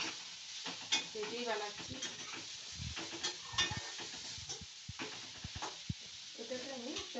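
Grated carrot halwa frying in ghee with cashews and raisins, soft stirring scrapes and a light sizzle under someone talking throughout, close and fairly quiet.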